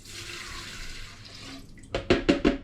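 Spirit, 1.5 litres, poured into an Air Still Pro: a steady broadband liquid rush, then a few short glugging bursts near the end, close and fairly loud.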